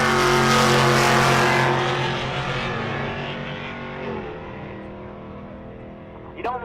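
A 4th Gen Firebird drag racing at Rocky Mountain Race Week, its engine roaring loud and close at launch, then the tone falling and fading as it pulls away down the strip, with a brief sharp rev at the end.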